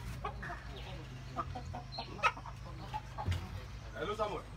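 Chickens clucking at a poultry sale holding hundreds of birds ahead of Christmas, scattered short clucks and calls over a steady low hum, with people talking faintly in the background.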